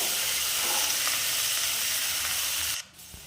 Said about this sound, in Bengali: টমেটো সব দিয়ে দিলাম আবার আমরা এটাকে একটু নাড়াচাড়া করে নিলাম